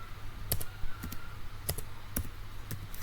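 Someone types a command on a computer keyboard while configuring VLANs, with sparse, separate key clicks and taps at an irregular pace, close up, over a steady low hum.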